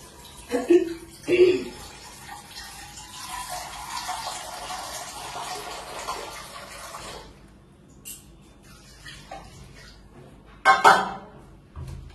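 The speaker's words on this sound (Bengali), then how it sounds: "এবার আমি পেঁপে আর টমেটো গুলো দিয়ে দেবো, আর একটু জল দেবো, জল লাগবে যেহেতু।" Water is poured from a vessel into a pot of boiled dal with papaya and tomatoes, making a few splashing pours and clattering handling sounds at the start and end, with a softer stretch of kitchen noise between.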